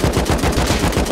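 Rapid automatic gunfire from the video game Rust, a loud sustained burst of evenly spaced shots filling about a second with no talk over it.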